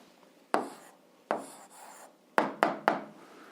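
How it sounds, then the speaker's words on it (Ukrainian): A pen writes down the answer to an 8th-grade algebra exercise: a handful of short, scratchy strokes close by, spaced irregularly, with quiet pauses between them. "записуємо відповідь, пишемо відповідь"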